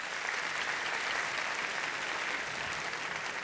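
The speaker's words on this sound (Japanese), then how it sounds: "戦うこの2チームに拍手をお願いします" An audience at a fighting game tournament claps for the two final teams, a steady, dense burst of applause lasting a few seconds with no talk.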